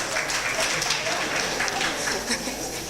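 Applause from the audience at a Rotary club installation ceremony, a continuous broadband wash of many hands clapping for the full few seconds with no clear talk over it.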